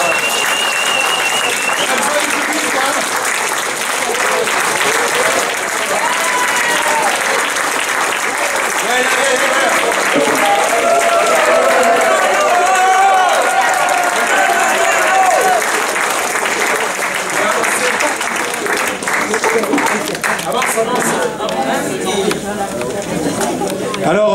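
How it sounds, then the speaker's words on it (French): A crowd applauds steadily as a rock band arrives for a performance, with loud, continuous clapping and chatter filling the whole stretch and talk heard through it. "Et vous pouvez les applaudir quand ils arrivent."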